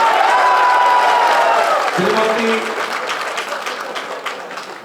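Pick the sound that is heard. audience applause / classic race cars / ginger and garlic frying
audience applause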